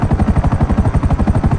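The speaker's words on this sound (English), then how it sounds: "I'm gonna take a helicopter up there." A helicopter flies in GTA V, its rotor beating loud and close in a fast, steady chop of about a dozen thuds per second over a whooshing engine drone, with no speech.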